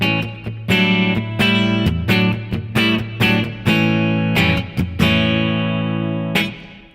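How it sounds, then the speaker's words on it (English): A Music Man Luke III electric guitar plays with both middle pickups selected together, giving a run of bright, quacky strummed chords and single picked notes that ring out and fade at the end, with no talking. "A really quacky sound. The middle pickups, the two pickups together."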